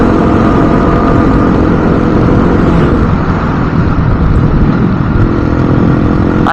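A motorcycle engine drones loudly and continuously during a ride, with heavy rumble and wind rush and little change in pitch; no talking.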